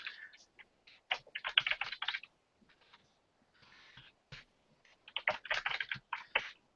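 Fast bursts of typing on a computer keyboard, close and crisp keystrokes in clustered runs separated by short pauses, with no speech.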